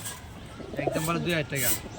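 Soft, rhythmic cooing of pigeons nearby, a few throaty warbling calls in close succession.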